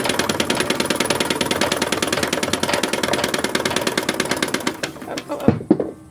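Sewing machine stitching the front seam of an 1870s-style wrapper dress, a rapid, even mechanical chatter running steadily for several seconds before stopping, followed by a couple of soft clicks.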